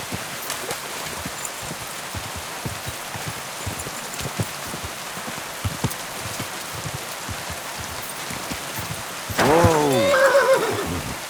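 A horse whinnies loudly in a burst of rising and falling calls near the end, heard over steady rain pattering on the ground with occasional hoof clip-clops in a medieval-world role-playing game.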